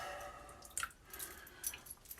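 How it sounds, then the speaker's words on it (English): A little water is added to shaving lather before a Turkish coffee scented shave: a few soft drips and wet squishes, close and quiet, over a faint background hum. "I can add a little water."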